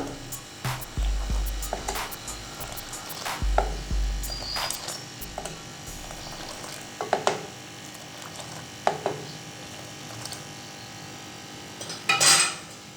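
A whisk scrapes and clinks against a metal pot of milk tea with sugar, sounding as sparse, sharp metallic taps with a low hum beneath.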